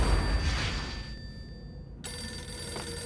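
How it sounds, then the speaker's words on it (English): Telephone ringing in the Max Payne video game, a bright electronic bell trilling at moderate volume over a low room hum, stopping and then starting again partway through, with no talk. "Phone ringing."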